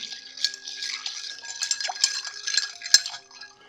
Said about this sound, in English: Let's stir that up.